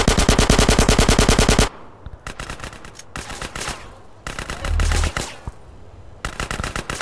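Automatic gunfire in Grand Theft Auto: San Andreas: loud, rapid machine-gun bursts rattle off in quick succession, broken by short pauses before more volleys. No voices are heard.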